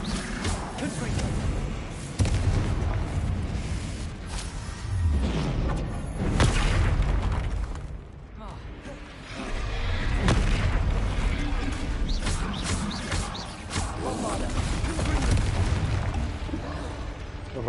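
Confringo blasting spells go off in a Hogwarts Legacy battle, a run of loud booming explosions and bursts in repeated waves, mixed with spoken voices.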